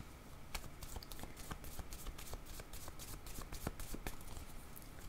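Tarot cards are shuffled and drawn up close: a quiet, continuous papery riffle with sharp individual card snaps and flicks scattered throughout, no voices.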